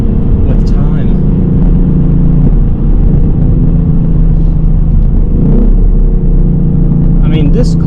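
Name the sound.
V8 sports car engine rev matching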